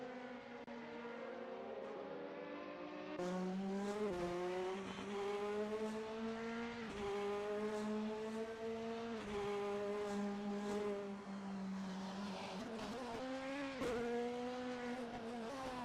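DTM race cars lapping the Portimao circuit in a sim racing game, engines howling loudly and continuously with rising and falling pitch through gear changes, several cars overlapping.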